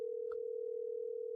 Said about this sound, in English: We're trying to get Joe on the phone.